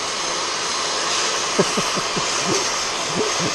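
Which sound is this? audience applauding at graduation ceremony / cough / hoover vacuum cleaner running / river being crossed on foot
hoover vacuum cleaner running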